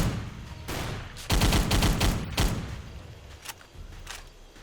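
Bursts of machine gun fire from enemy gun nests in a war video game, a loud fast rattling volley that dies into scattered shots and distant pops, with no voices.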